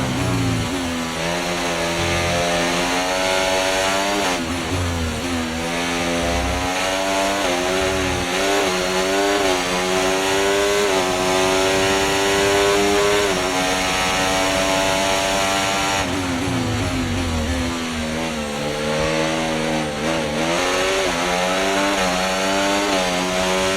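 A Formula 1 car engine in F1 24 at the Red Bull Ring screams loudly and continuously, its pitch climbing and dropping through gear changes for over twenty seconds, with no voices.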